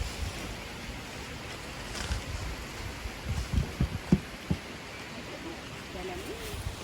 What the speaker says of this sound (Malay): Angin kuat guys. Nampak tu pokok bergoyang-goyang.